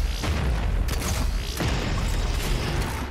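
Heavy game combat from Doom Eternal with bombs going off, producing dense, loud booming bursts and mechanical clanks layered throughout, with sharp transients near the one- and one-and-a-half-second marks.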